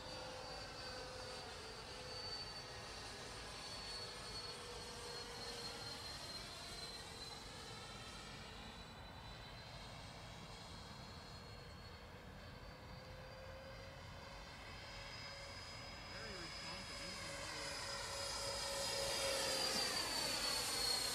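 A Freewing MiG-29 Fulcrum RC jet with twin 80mm electric ducted fans flying at half throttle, a faint, distant whine that shifts in pitch as it passes and swells louder near the end.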